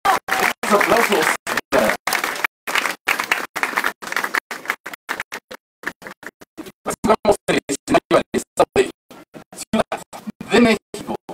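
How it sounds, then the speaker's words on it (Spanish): Claps from the audience sound at a national pageant final in Huatulco, Oaxaca, coming in bursts of sharp individual hits that break off and start again, with voices and crowd sounds mixed in. "¡Aplausos!"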